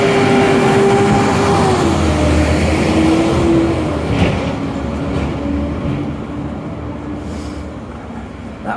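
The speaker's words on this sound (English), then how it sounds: "That was a loud truck." A loud truck passes on a city street during a walk from Quinpool Road to Scotia Square, a heavy steady engine rumble and roar filling the clip, then slowly easing off as it moves away.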